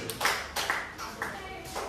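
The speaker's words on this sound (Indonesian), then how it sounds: "Tepuk tangan buat Anta dan Andi." Classroom students in a mathematics lesson give a short round of clapping, a few spaced bursts of claps at a steady rhythm, with children's voices underneath.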